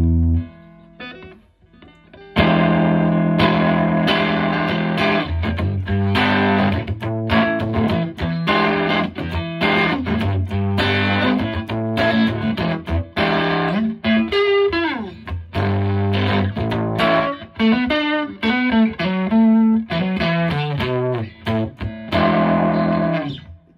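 Electric guitar on an amp's clean channel with a touch of reverb, strumming and picking chords with rhythmic chops, slides and ringing notes, played close and loud with no talking.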